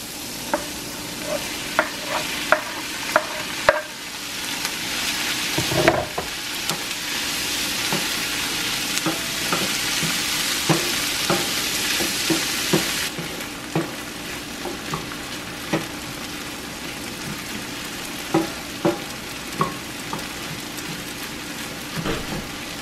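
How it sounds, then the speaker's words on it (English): Tomatoes and onions frying in a pan, with a steady sizzle broken by repeated scraping and tapping of a utensil stirring; the hiss swells loudly for several seconds partway through. "now we're going to add in the tomatoes and cook those down"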